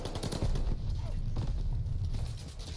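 Gunfire from weapons shooting out walls in the video game Call of Duty Vanguard, a dense, muffled barrage of shots and impacts blended with game noise at moderate level.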